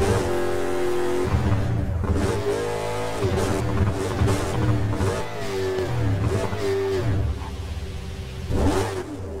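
Race cars in the video game Burnout rev and accelerate at mid pitch, loud and continuous, with engine notes climbing and dropping as gears shift over about nine seconds.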